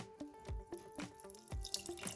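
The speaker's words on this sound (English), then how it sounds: "Just gotta pour hot water." Hot water dispensing from an Ecoviva MATE4 countertop RO water filter: a thin, uneven stream trickling and dripping into a vessel, with soft periodic splashes, close and fairly quiet.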